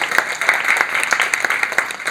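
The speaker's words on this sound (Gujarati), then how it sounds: "આપણે સૌ તેઓને તાળીઓના ગડગડાટથી વધાવી લઈએ" An audience at a women's wing talent show applauds the performers. Dense, even clapping from many hands continues steadily for a couple of seconds at a fairly loud level.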